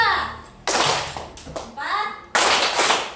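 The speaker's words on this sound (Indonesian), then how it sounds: "Kalau Ibu bilang 4, tepuk 2 kali." Children in a classroom clap in short unison bursts during a counting game, loud and close, with a voice and the teacher's speech between the claps.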